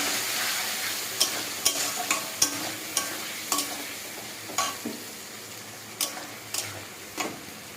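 Onion frying in a pan with turmeric powder and a ground spice paste, a steady sizzle under repeated sharp scrapes and taps of a spoon stirring against the pan, close and fairly loud.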